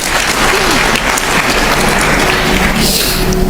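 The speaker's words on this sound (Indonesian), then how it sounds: "Tepuk tangan buat Tuhan Yesus." A church congregation at a worship service claps loudly for Jesus, a dense, continuous roar of many hands with a faint sustained tone underneath, close and full for several seconds.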